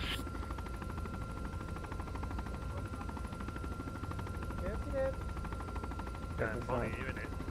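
Steady loud rotor and engine drone of a helicopter in the military video game Arma 3, continuous throughout, with radio-style voices talking over it.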